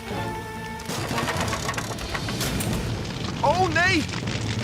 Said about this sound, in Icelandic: Flugeldar!